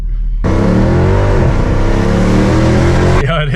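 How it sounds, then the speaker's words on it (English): A Mercedes C63 AMG coupe of the 204 generation revs its engine close by, a loud sustained throaty roar that rises and dips for about three seconds before cutting off abruptly. "this is his C63 coupe, 204 coupe"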